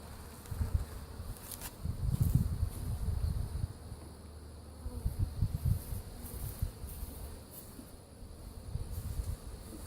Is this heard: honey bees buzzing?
yes